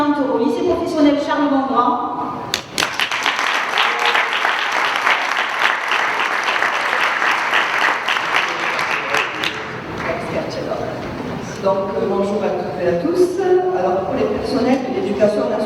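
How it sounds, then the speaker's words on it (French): An audience at a political rally on pension reform breaks into loud, sustained applause for about seven seconds, with a speaker talking both before and after it. "Je vais vous demander d'applaudir Alain Marconi"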